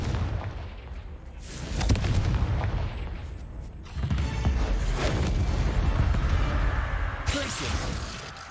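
The Confringo spell in Hogwarts Legacy sets off heavy booming blasts and rumbling impacts that carry on throughout, with a spoken voice over the din.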